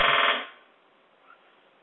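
An office telephone rings in one loud burst of electronic trilling that cuts off after half a second, followed by quiet room tone.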